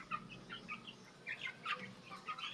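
Rhode Island Red chicks being fed cluck and cheep softly in short, scattered high calls, quiet and close, with no voices.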